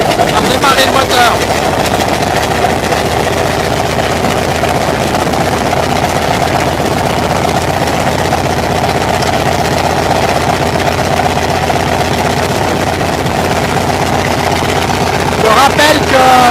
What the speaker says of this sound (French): On va redémarrer le moteur.